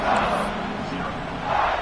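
A dense, loud crowd roars continuously at a college football game at Autzen Stadium, home of the Oregon Ducks, a sustained wall of cheering with swells at the start and end.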